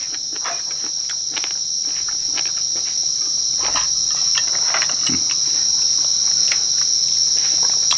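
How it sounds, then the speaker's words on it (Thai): Steady, continuous cricket chirping fills the background, a high shrill trill holding evenly throughout with faint scattered ticks beneath it. "มันอาจจะมีเสียงของจิ้งหรีด"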